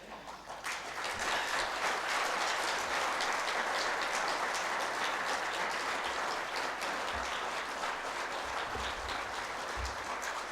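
A seated audience at a talk on social service in Kathmandu claps steadily for guests standing up, a sustained wash of applause heard from within the hall without speech.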